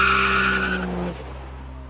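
Ford Falcon cars roar through the speed traps at a 50th-anniversary motoring event, a loud close engine howl with tyre squeal that drops away after about a second, leaving a lower rumble.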